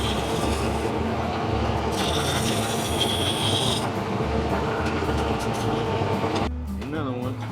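A woodturning lathe cutting a spinning wooden candle blank, a steady rough scraping rasp carrying on for several seconds, close and continuous, with a brief voice near the end.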